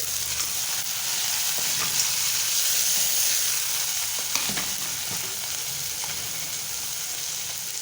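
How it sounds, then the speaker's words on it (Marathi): Tomatoes sizzle in a hot pan for dal vangi, a dense continuous frying hiss with a few faint stirring ticks, close and steady, with no talking. "आता आपण इथे टोमॅटो घालून घेणार आहोत"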